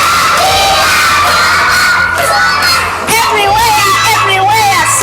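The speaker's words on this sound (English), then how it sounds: "Clap hands for Azere." Excited children in a classroom shout and cheer loudly together, a dense, steady crowd of young voices that carries on throughout with no break.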